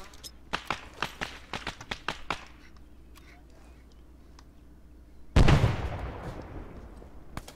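A grenade blows up in the military shooter Arma 3 with a sudden, loud, deep blast that rumbles away over a few seconds. A string of light, sharp taps comes before it, with long quiet stretches in between.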